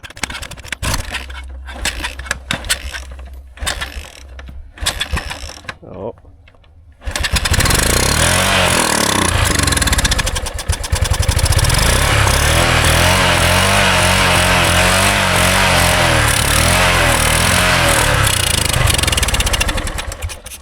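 Old Honda enduro motorcycle, about fifty years old, being kicked over with sputtering tries, then catching and running loudly and steadily close by for over ten seconds, with speech in the background.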